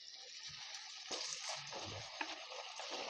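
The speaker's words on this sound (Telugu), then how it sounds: "బీరకాయ ముక్కలను కూడా వేసేసుకొని వీటిని బాగా కలుపుకోవాలి." Ridge gourd pieces stirred into a hot tempering in a pan, a soft steady sizzle with scraping spoon strokes, fairly faint and close, no talk.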